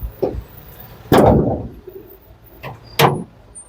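A car bonnet is shut after an under-hood check of the oil dipstick, air filter, radiator cap, brakes, battery and fuse box: a couple of sharp metallic thuds with softer clunks around them, close and loud.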